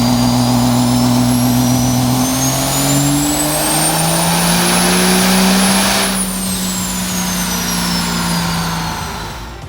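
Roaring 2000-horsepower car engine on a dyno during a fuel-only run, a loud sustained howl with pitch climbing steadily then dropping off as the revs ease, very close and continuous.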